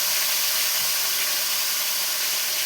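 Fish frying in a pan produces a loud, steady, broad hissing sizzle that continues unbroken and close up, with no voices.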